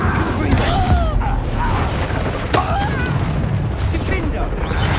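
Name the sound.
Incendio fire spell in Hogwarts Legacy video game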